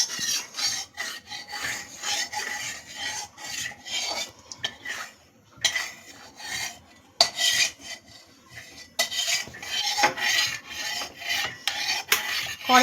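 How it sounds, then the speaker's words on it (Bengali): Mustard oil being spread around a hot wok with a spatula or spoon: steady scraping and rubbing strokes of metal on the pan, fairly close, with a few short pauses and no talking. "কড়াইয়ের চারপাশে লাগিয়ে নিচ্ছি।"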